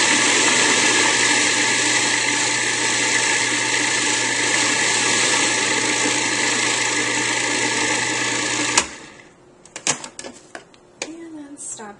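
A food processor whirs loudly and steadily as it finely chops vegetables for a raw veggie bouillon, then shuts off abruptly, followed by clicks and handling noises.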